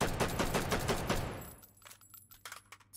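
Single-fire shots from a semi-automatic gun in a video game crack off in a rapid, loud string for about a second and a half, then a few scattered, quieter shots follow.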